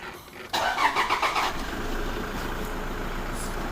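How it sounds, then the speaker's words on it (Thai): A Toyota Fortuner 2.5 V diesel SUV engine cranks briefly with a few rhythmic turns, catches, and settles into a steady low idle close by. "เครื่องสตาร์ท"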